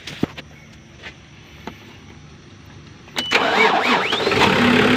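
A car engine cranks and catches after a fuel pipe repair, with faint clicks during a quiet stretch before it starts and then runs on at a steady, moderately loud idle.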